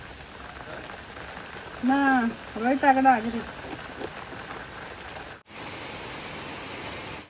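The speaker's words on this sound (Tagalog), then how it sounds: "Pag ganitong malakas ang ulan" Heavy rain pours down in a steady, loud hiss that fills the whole clip, while a person talks briefly over it.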